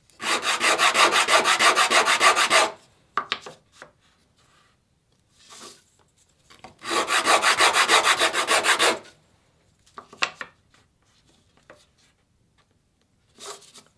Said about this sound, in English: so I'm just going to use one of my sanding sticks here